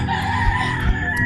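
A rooster crows in the countryside, a close, loud, sustained call.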